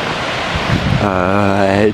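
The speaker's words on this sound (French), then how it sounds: "regarde, t'as la mini cascade." A small mountain waterfall near an alpine lake at around 2000 m in Haute-Savoie rushes in a steady broadband wash, close and loud, with wind buffeting the microphone and a voice-like tonal hum entering partway.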